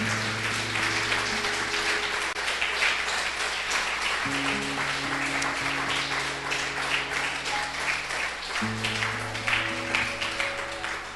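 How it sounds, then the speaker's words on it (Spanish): Church congregation applauding during a sermon, dense sustained clapping over steady organ or keyboard chords that shift in pitch, continuous and even throughout. "Dele ese aplauso al Señor"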